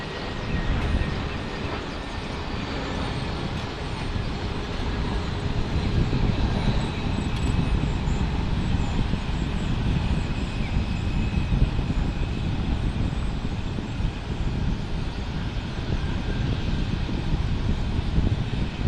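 A JetBlue airliner on the red-eye from Los Angeles takes off at Fort Lauderdale, its engines a broad, steady, loud roar rumbling continuously from start to finish without any speech.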